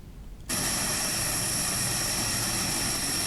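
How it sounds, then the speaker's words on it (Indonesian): A Hercules transport aircraft at Suwondo air base in Medan, its engines cutting in abruptly as a loud, steady propeller roar with a high whine that holds constant, close by and without talk. "Seluruh bantuan diangkut menggunakan pesawat Hercules."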